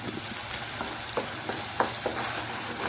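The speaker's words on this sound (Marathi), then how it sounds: "हा मसाला आता त्यात परतून घ्यायचा" A spice paste with red chilli powder and tomato is sautéed in a pan for dhaba-style egg masala: a soft, continuous frying hiss with several light spoon scrapes and stirs spread through it, fairly quiet and with no voices.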